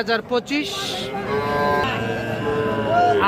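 Cattle at a rural livestock market, with one long, loud, close moo that rises and holds for about two seconds after a few short sounds at the start.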